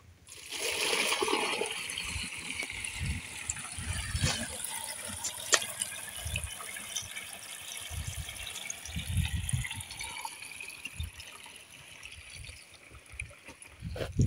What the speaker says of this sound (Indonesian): Ya, kita tuangkan airnya.